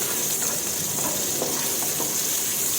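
Garlic frying in hot oil until golden makes a loud, dense, continuous sizzle close up, with faint stirring scrapes buried in the crackle.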